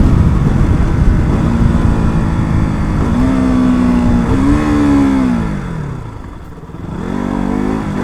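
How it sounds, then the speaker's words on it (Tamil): A KTM RC200 motorcycle engine blips and revs during rev-matched gear shifts, a loud close drone rising in pitch, dropping, then climbing again after a short dip. "இது வந்து normal gear shift, rev matching."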